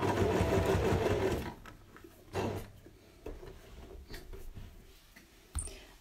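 A sewing machine stitching an adult fabric face mask runs slowly over pins in a close, steady whir for about a second and a half, followed by quieter scattered clicks and taps of fabric handling.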